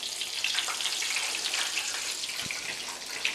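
Tripe crisping in a hot pan makes a bright, close, steady sizzle with small spits and pops, heard alone without talk.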